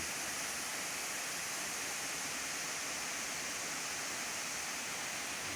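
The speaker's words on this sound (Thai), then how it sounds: "น้ำตกห้วยแม่อิน" Huay Mae In waterfall roaring steadily as a dense, unbroken wash of falling water, even and full across the whole stretch with no voices or other sounds.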